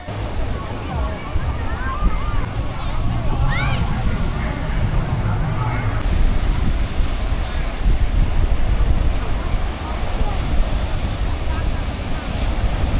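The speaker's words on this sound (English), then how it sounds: "I lie on the sand, listen to the waves, and enjoy the cool sea breeze." Steady roar of surf washing onto a beach in Vietnam, with a constant breezy rush of sea breeze over it and no clear breaks, broadband and continuous throughout.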